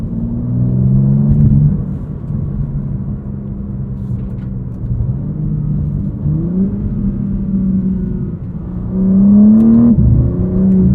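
A 2023 BMW M4 CSL with an 8-speed automatic drives on the street, heard from inside with a steady engine drone that rises and drops through several quick gear changes and swells loudly near the end.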